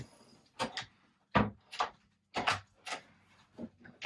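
The toilet-room door inside an Etap 48 DS caravan being closed, giving a series of close, sharp knocks and clunks spaced over a few seconds with quiet between them.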